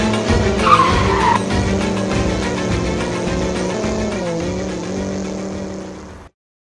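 Car in the video game GTA 5 revving hard and pulling away, tires squealing loudly in a long skid before the engine drone fades and cuts off abruptly to silence.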